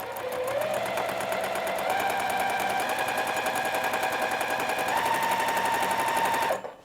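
A sewing machine runs steadily, chain-piecing quilt fabric pieces for an easy quilt top, with a fast continuous rhythmic stitching whir that stays loud and close for about six seconds before stopping abruptly.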